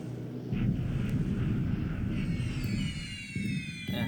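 Bomber airstrike in the War in the Pacific game: a steady wash of aircraft engine drone and rumbling blasts, loud and continuous with wind-like noise throughout.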